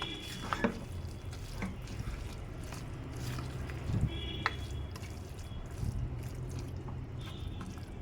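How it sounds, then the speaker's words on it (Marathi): Paneer shawarma filling with cheese cubes is stirred and mixed in a bowl, a continuous scraping, clinking and squishing at moderate loudness with occasional sharper knocks and no talking. "आता हे छान मिक्स करून घेऊया आपण"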